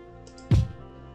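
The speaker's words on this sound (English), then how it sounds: "we're gonna start a sound called drum bass" A single deep bass drum thump from the Scratch sound library, with a short, boomy low end that fades quickly over faint background hum.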